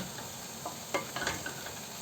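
Mixed greens being sautéed and stirred in a pan, a faint steady sizzle with a few soft scraping stirs, close by and without talk.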